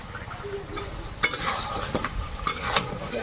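Crab curry with spices is stirred and sautéed in a pan: a spoon scrapes and clinks against the metal in several distinct strokes over a low background sizzle, close up, with no talking.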